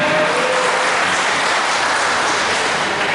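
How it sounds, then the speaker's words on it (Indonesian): Dense, steady applause from a large crowd at a village election-supervision event, a continuous wash of clapping that stays loud and even throughout. "Tepuk tangan."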